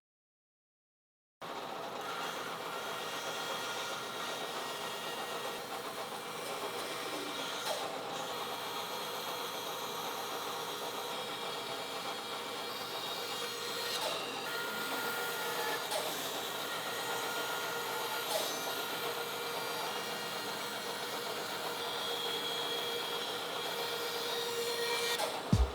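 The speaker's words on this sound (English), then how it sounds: "at the bandsaw, I'm going to cut close to the line" A bandsaw cuts wood close to a traced line for a weather station template, a continuous steady whirring drone with a slight rising bite near the end.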